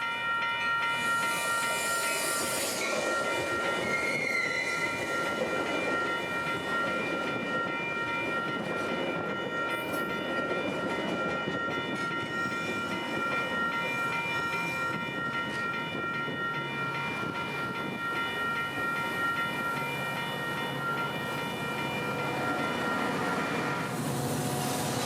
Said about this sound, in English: I'd relocate to the other side of the station as a Metro commuter train would be arriving, eastbound number 501 to Chicago.